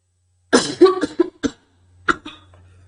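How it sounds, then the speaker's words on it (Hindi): A fit of harsh, close coughs: a rapid cluster of several, a brief pause, then one more cough trailing off into quiet. "थोड़ा सा आज ज्यादा खांसी ज्यादा चल रही है"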